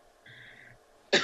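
A single short cough bursts out near the end after a quiet stretch with a faint tonal hum, loud and close in a television studio interview setting.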